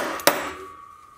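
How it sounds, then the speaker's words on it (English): A single sharp hammer blow drives a filed, recessed lathe drive center into the end of a wooden dowel, a close, loud knock followed by a short fading ring in the workshop. "It hammers in easily and it sticks into the back of the dowel"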